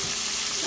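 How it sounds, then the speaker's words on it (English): Chicken sizzles and crackles loudly in hot oil, a dense, steady frying hiss close by with no talking. "Y'all see the chickens is frying and nicely."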